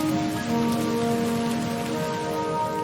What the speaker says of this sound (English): water started forming clouds, which finally rained down onto the surface of Earth, filling up the oceans.